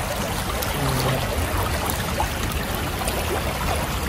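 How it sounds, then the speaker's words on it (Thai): An Icelandic waterfall gives a steady, full rushing roar of falling water that stays even and fairly loud throughout, with no voices. "น้ำตก"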